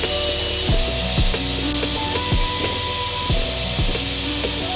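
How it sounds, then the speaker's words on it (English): Debris is scraped off the coolant opening of a BMW engine: a steady, close rubbing scrape with repeated short strokes under a constant background hiss. "I'm just going to be scraping"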